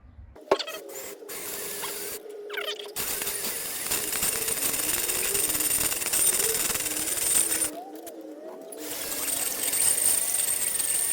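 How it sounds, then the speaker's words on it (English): A power drill bores a 1/4 inch hole, whining in several sustained bursts separated by brief pauses, close and moderately loud. "Stepping up to 1/4 inch. I could drill that out a little more"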